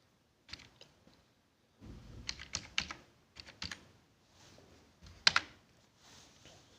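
Quiet computer-keyboard typing, entering a PIN code for an RTO office in an online driving-licence application, comes as short clusters of crisp keystrokes separated by brief pauses, heard close and alone.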